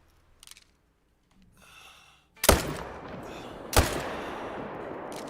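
Two loud, sharp rifle shots about a second apart, fired while hunting mule deer in theHunter: Call of the Wild, each with a short decaying tail, after a few quiet faint sounds.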